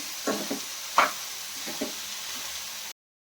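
Grated carrots roasting in ghee for carrot halwa, with a few soft stirring scrapes and a light sizzle under a steady hiss, then silence at the end.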